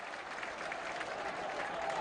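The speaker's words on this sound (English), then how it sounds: "First corner of the game. And that lifts the Burnley crowd once again." A Burnley home football crowd at a 2004 match against Wigan Athletic cheers and claps as a corner is won, a steady distant roar of applause and crowd noise lasting a couple of seconds.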